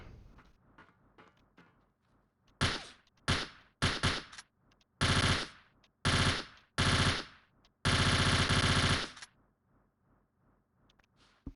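Rifle gunfire in the Tomb Raider: Angel of Darkness video game comes in sharp, loud bursts of several shots each, with short silences between volleys and a longer sustained burst near the end.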